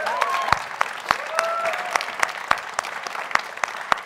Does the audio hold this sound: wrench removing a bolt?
no